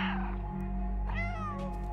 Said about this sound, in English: Victory meow!